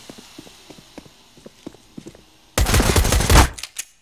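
Carbine gunfire in the video game CS GO, a dense, loud burst of shots arriving after a stretch of light, rhythmic footstep-like taps.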